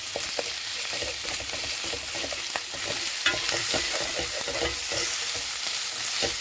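Ginger garlic paste fries in a pan with steady close sizzling, broken by frequent scraping clicks of a spoon stirring it around, continuous for several seconds with no voices.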